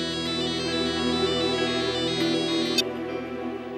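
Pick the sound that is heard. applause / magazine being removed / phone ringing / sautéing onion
phone ringing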